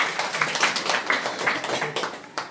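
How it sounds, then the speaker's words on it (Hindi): Classroom of students clapping for a classmate, a short burst of quick, slightly uneven hand claps at moderate distance, faint and brief. "जोरदार ताली इस बच्चे के लिए"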